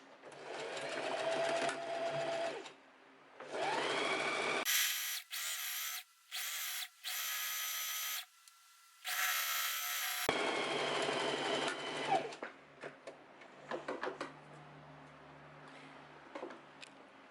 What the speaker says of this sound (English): I'm just going to put my fabric underneath the foot, put the foot down, and now I'm gliding my fabric along the 1 centimeter mark